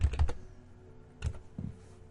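Bursts of computer keyboard keystrokes type a username: a quick cluster of clicks, a pause, then two more taps, close and fairly quiet.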